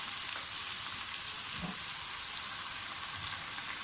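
Browned chicken frying in a pan as yogurt is added hisses with a dense, even sizzle like steady rain, close and constant, with a faint stir or scrape partway through.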